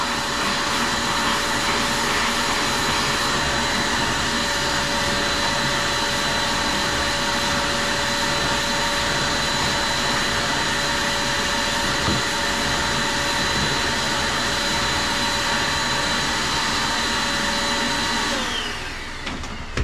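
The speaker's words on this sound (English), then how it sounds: "I take a vacuum cleaner with a brush end on it and vacuum all the loose sanding stuff away" A vacuum cleaner with a brush attachment, clearing sanding dust from a chestnut oak wood turning, drones loudly and steadily, its motor holding one constant whine for the whole stretch before cutting off at the end.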